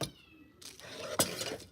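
A cat meows once or twice indoors in a rural Slovak home, a short near cry amid light household clatter, with no one speaking over it.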